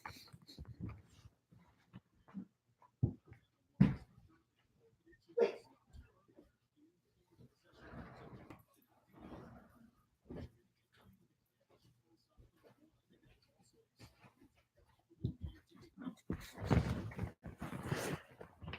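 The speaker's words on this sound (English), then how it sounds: "Just gotta let my dog in." A pet dog being let in through a door indoors, heard as faint scattered whimpers, panting and small shuffling noises, with someone speaking quietly at moments and a louder burst of activity near the end.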